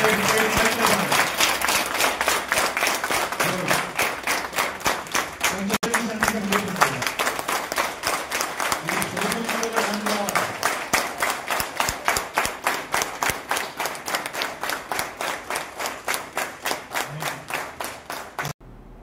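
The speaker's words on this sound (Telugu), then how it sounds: "మీ చప్పట్లతోటి" An audience at a public meeting claps steadily and rhythmically for a long stretch, loud and close, with faint voices in the background.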